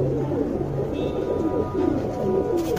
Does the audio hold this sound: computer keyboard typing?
no